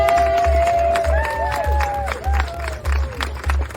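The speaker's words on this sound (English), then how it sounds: "We give a big round of applause" Crowd applause and cheering at a Boston Marathon expo, continuous clapping with scattered cheers and voices over a low rhythmic music beat.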